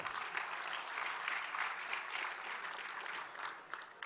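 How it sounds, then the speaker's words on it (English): Steady, dense applause from a large conference audience at a closing address, a continuous wash of many hands clapping close by with no break across the clip. "how about giving yourselves a big round of applause for joining us this year?"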